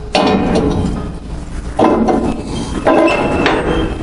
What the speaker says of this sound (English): Latch mechanism fully engaged.